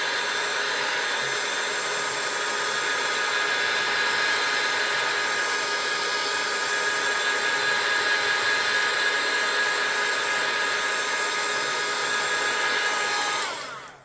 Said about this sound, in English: let me hit this one more time with the dryer real fast.